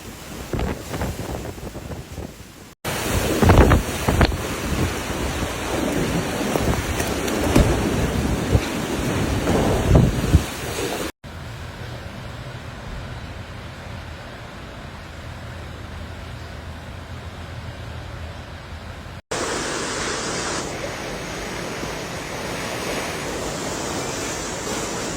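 Typhoon Gaemi lashes coastal Taiwan with roaring wind and heavy rain, a loud, turbulent storm that cuts between several shots, some with heavy wind buffeting on the microphone and others quieter with steady rain hiss.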